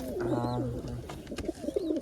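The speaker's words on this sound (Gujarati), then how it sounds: "આ કબૂતર પાછું આવી ગયું છે" Pigeons cooing near a window in a home, several low soft coos repeating in a loose rhythm with a faint background murmur.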